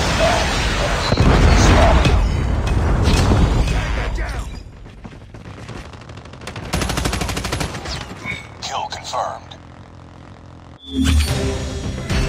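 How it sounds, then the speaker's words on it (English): A Predator missile strike in Call of Duty Mobile multiplayer, a loud roaring rush and boom with dense gunfire around it, then a quieter stretch and a fresh heavy blast near the end. "Predator missile inbound."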